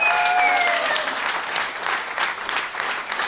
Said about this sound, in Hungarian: de egy tapsot ők is megérdemelnek